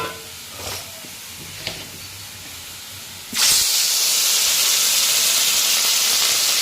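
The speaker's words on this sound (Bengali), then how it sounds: "এখন এই কড়াইটার মধ্যেই মাছগুলো ভেজে নেব" Fish drops into hot oil in a wok, setting off a sudden loud, steady hissing sizzle after a few quiet moments of faint kitchen noise.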